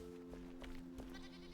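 Goats bleating in the game Enshrouded, several short wavering cries spaced apart, faint and somewhat distant over a low steady tone.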